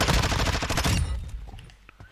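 Vaznev assault rifle fires a rapid full-auto burst in Warzone 2.0, loud and punchy for about a second, then brief scattered shots and fading echoes.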